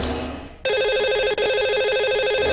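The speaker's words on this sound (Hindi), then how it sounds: "चलिए, उन्हें सबसे पहले हम फोन लगा लेते हैं जी।" A telephone rings steadily on a live TV call-in show, a bright electronic trill that starts abruptly and repeats with a brief break, heard clearly in a studio.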